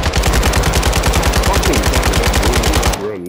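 Rapid automatic RPK machine gun fire in Call of Duty: Modern Warfare II, a loud steady stream of close shots for about three seconds that cuts off abruptly, leaving a brief quieter tail.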